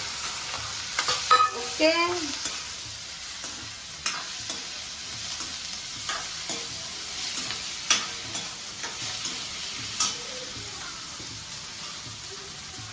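Potatoes drop into hot oil with mustard seeds, asafoetida, chilies, curry leaves and tomatoes, a steady close sizzle with repeated stirring scrapes. A voice speaks briefly at the start.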